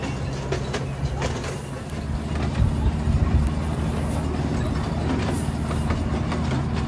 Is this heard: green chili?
no